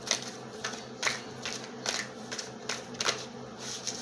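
A deck of tarot cards is shuffled by hand, a run of quick papery riffles and slaps repeating in a rough rhythm, close and moderately loud, with no one speaking.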